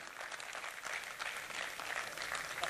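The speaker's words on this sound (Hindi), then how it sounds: "आपकी फिर से जोरदार तालियों के साथ" Audience applause at an award felicitation for a 22-year-old young Sarpanch at the Vadodara Mushaira 2018, a steady wash of clapping, moderately distant and fairly faint, with no talk over it.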